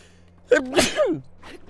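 A single sharp video game sneeze from Zelda: Breath of the Wild bursts out, short and close, with a quick breathy intake before it and a faint tail after.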